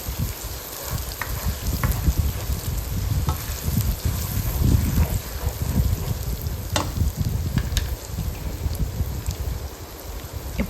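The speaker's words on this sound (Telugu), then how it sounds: "ఇప్పుడు దీన్ని కొంచెం బాగా ఫ్రై చేసుకుందాం." Onion paste fries and gets stirred in a pan for a fish curry, giving a steady loud sizzle with a crackling spatter. Occasional scrapes of the spoon cut through, and no one talks.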